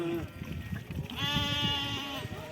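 A sheep bleats loudly nearby, a wavering drawn-out call over a background of rustling and low farmyard noise.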